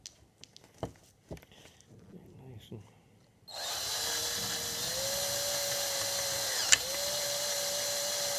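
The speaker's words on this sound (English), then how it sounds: "And last one we need to drill out." A power drill bores out rivets on the fuselage of an Airdrome Aeroplanes Nieuport 11 replica aircraft build: a few quiet taps and handling knocks, then a loud, steady high-pitched whine that runs unbroken for the last five seconds, close by.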